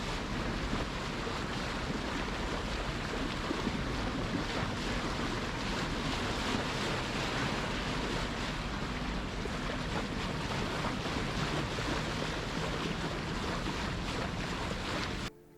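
A sailboat moves under sail across open water with a steady rush of wind and water. Buffeting wind on the microphone runs the whole time, with no voices.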